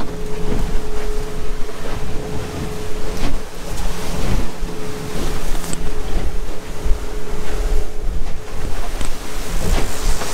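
Rough open sea off Apollo Bay churns against a fishing boat, with loud, continuous wave wash and gusting wind roaring steadily throughout, a low engine drone faintly underneath.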